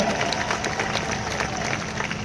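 A large crowd at a Hindi poetry festival in Baraut applauds loudly and continuously, a thick wash of clapping with faint crowd murmur beneath.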